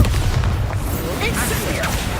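A Bombarda explosion spell from Hogwarts Legacy, a dense low booming blast with rumbling crackle throughout a short burst of combat noise.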